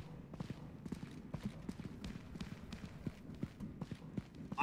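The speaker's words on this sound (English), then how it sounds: "I hear footsteps" Soft, evenly paced footsteps in The Long Drive video game patter along quietly, a steady series of light thuds close by with faint room noise between them.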